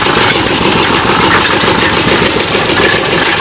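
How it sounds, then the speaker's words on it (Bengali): A sugarcane juice crushing machine used in jaggery making runs with a loud, steady mechanical engine drone and grinding rumble, close and unbroken. "আর এই যে মেশিনটা রয়েছে এটা কিন্তু প্রচণ্ড জোরে আওয়াজ হচ্ছে এখানে"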